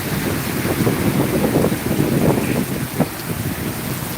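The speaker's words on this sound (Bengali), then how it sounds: "চারদিকে খালি বৃষ্টি আর বৃষ্টি তুফানের মতো বৃষ্টি" Heavy stormy rain pours down in Singapore as a dense, continuous roar with gusty wind, steady and loud throughout, with a brief knock near the end.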